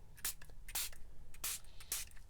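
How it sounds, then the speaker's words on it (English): A spray bottle mists coffee dye onto the edges of wet paper in four short, close hissing bursts with quiet pauses between. "I think I'm just going to spray the edges a tiny bit"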